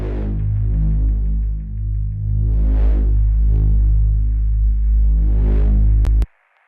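A synth bass line runs through a Timeless delay with heavy feedback, producing a deep sustained drone with swelling, echoing repeats that rise and fall twice before cutting off abruptly near the end.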